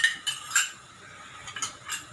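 Spoon scraping and clinking against a cooking pan while yogurt is added to Kathiyawadi-style bhindi masala, a spiced okra dish: a few light, close metallic taps and scrapes spread across a short moment.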